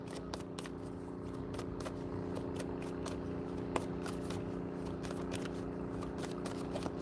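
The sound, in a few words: shuffling tarot cards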